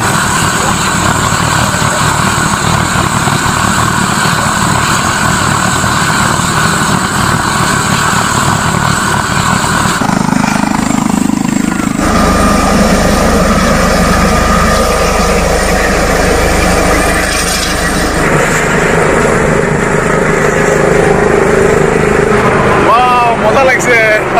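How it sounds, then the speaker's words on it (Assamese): A helicopter engine runs at a public field, a loud, continuous droning roar whose tone shifts partway through, with voices in the background. "চাওঁ আৰু লগতে দেখাই দিওঁ আপোনালোকক হেলিকপ্টাৰখন"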